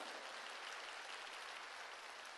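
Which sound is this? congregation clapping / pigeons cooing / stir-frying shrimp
congregation clapping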